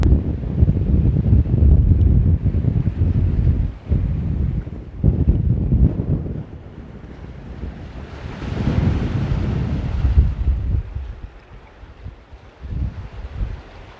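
Breezy wind gusting across the harbour at Gordon's Bay in the Western Cape, roaring steadily into the microphone with surf washing nearby, easing and thinning toward the end.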